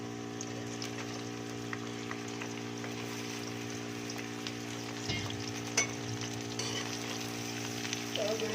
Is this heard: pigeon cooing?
no